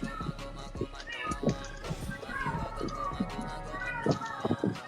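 Several cat meows come at close range alongside people talking in the background, with irregular short mews scattered throughout.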